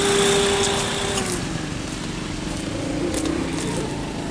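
Motorcycle engine revving hard on an uphill climb, a steady buzzing drone close by that holds loud throughout with slight wavering in pitch and no talking.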